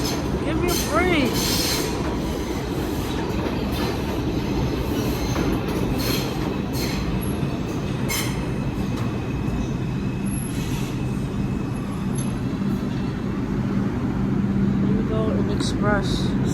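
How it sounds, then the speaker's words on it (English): A New York subway express train on the IRT Lexington line rumbles steadily throughout, with wheel squeal and rail clatter rising and falling; a voice can be heard talking briefly over the constant roar. "Express 6 train."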